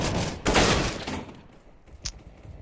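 Rapid AK rifle fire in a competitive tactical shooter match, a dense burst of loud shots up front that tails off, followed by a single sharper report near the end, with no talking.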